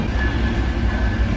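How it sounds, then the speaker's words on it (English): A train passing nearby in Skagway, Alaska, a loud continuous rumble and rattle of rail cars rolling by with a faint steady whine above the low roar. "Oh, I hear the train coming in over there."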